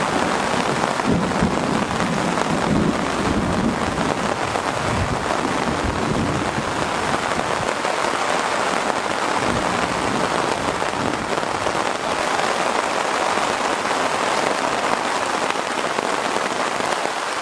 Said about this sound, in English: It's probably one of the biggest storms I've seen all year.